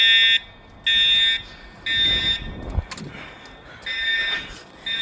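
School fire alarm going off at Chaparral High School: loud, shrill electronic beeping blasts in regular on-off pulses, with faint background noise and scuffling between them.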